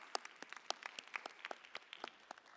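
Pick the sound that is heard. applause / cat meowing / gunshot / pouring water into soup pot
applause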